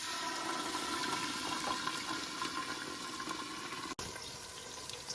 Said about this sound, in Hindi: थोड़ा सा पानी डाल के तो लगाते हैं तड़का।